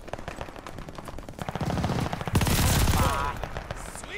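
Rapid automatic gunfire in Call of Duty: Vanguard multiplayer, loud dense bursts of shots rattling in quick succession, with a heavier barrage and explosions midway, faint speech underneath.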